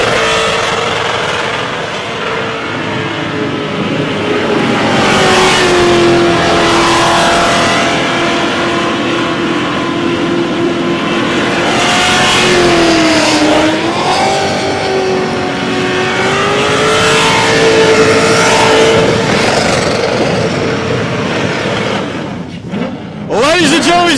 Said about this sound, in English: Has not given this thing a time to rest. Shredding those tires.